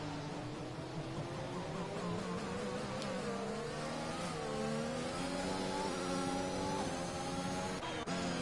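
Engine note of an Aston Martin race car in a racing video game, rising and falling through gear changes as one car chases another around Canada's track, with overlapping higher engine whines, steady and moderately loud, without talking.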